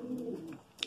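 Racing pigeons coo softly in a loft, a low throaty rolling coo heard close up, followed by a brief faint rustle at the end.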